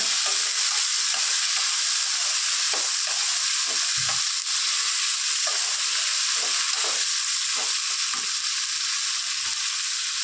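Masala frying in a pan for masala Maggi, a steady loud hissing sizzle with soft intermittent stirring taps underneath, close and continuous throughout with no talking.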